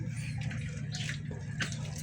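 Water sloshing and dripping as a child splashes at a tap or tub indoors, soft irregular splashes with a couple of brighter bursts over a steady low hum, no voices.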